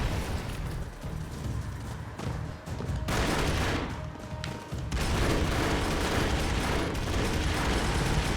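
Dense, continuous gunfire and explosions from the video game Broforce, loud sustained bursts that dip briefly in the middle before returning at full intensity.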